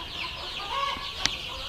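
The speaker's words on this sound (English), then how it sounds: "Look at the little chickens eating." Chickens on an organic farm in Mexico cluck softly while eating, low murmured calls in a steady background with a sharp click partway through.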